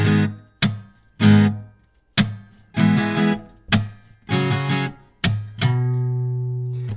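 A song's main rhythm strummed on acoustic guitar: sharp percussive strums with muted hits between, building into a ringing final chord, close-miked and solo with no voices.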